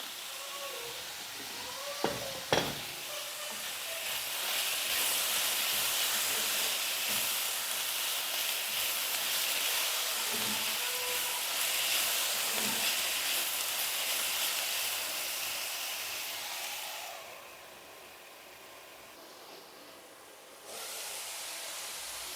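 Cabbage with added salt cooks in a pan, giving off a steady, gentle sizzling hiss that drops lower near the end, with a couple of faint clicks early on.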